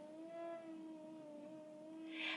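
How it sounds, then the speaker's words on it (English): A steady, high whistling tone wavers slightly in pitch, with a faint hiss rising near the end, as wind from a big storm forces through window vents. "That is actually the wind coming through the vents because we're in the middle of this massive storm"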